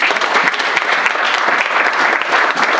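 A church congregation at an Easter service claps and acclaims together, a loud, dense, unbroken roar of hands that stays close and steady throughout.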